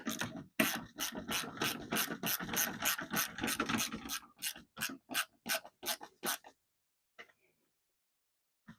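A ratchet wrench tightens a mud flap bolt underneath a Tacoma pickup, a dense run of rapid close clicks that slows into separate spaced clicks and then stops, leaving near silence.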